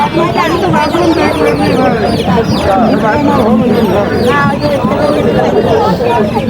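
Farm-raised chicks and fowl cluck and peep constantly at a crowded duck and chicken market in Mirpur, Kushtia. The sound is loud and close, with a babble of market voices throughout.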